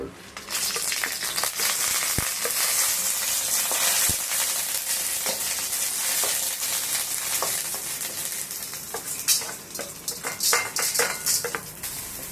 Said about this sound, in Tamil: இதெல்லாம் கொஞ்சம் கொஞ்சம் எண்ணெயில் ஃப்ரை பண்ணி எடுத்துக்கிட்டு